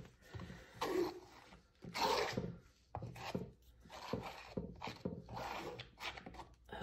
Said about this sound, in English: just scraping it all the way to the other side